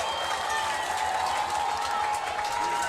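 Football stadium crowd roaring and cheering steadily throughout, a dense wash of many voices with scattered clapping, loud and continuous.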